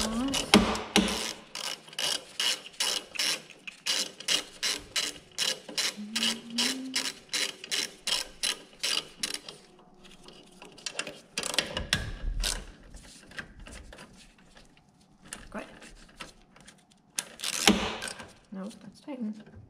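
A ratchet loosens nuts on the carburetor of a Poulan Pro PR271 snow blower, clicking in rapid close bursts with pauses in between, and someone talks during the gaps.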